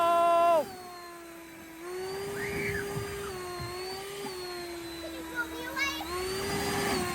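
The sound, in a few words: Ryobi 40V brushless electric leaf blower on turbo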